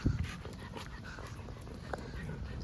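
A large German Shepherd pants heavily and steadily with rapid breaths, close by on a short outdoor walk, with faint ambient noise and no talking.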